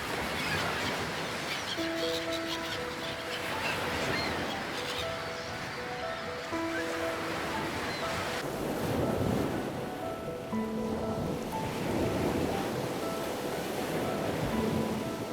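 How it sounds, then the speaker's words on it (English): Ocean water washing around coral reefs off the Gold Coast of Australia, a steady broadband rush of surf with faint tonal calls drifting over it, continuous and fairly close throughout. "at the edge of the ocean in this case, the coral reefs around the Gold Coast of Australia"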